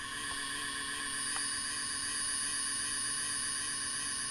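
Steady electrical hum from the always-on engine lights of a DCC model train layout, a constant tonal buzz with high whine, continuous and even throughout with no talking.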